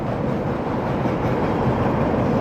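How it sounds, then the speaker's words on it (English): A loud, dense roar of a Chicago 'L' Brown Line elevated train passing close by on the Loop, steady rumbling and rattling that fills the whole moment without pause. "Hey, here comes the train."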